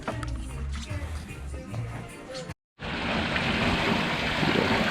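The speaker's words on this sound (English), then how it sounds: "This waterfall's fresh though." Fresh outdoor waterfall on a rainy day: a steady, full rushing of falling water close to the microphone, briefly cut out once and then returning louder and denser.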